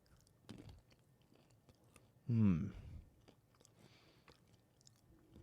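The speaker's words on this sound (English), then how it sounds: "It's a nice bite into it. It's not too crunchy, but it's got enough crunch to be welcoming" A crunchy moon-shaped corn snack from an MRE First Strike ration bitten once, a sharp close crunch followed by soft chewing, in an otherwise quiet room.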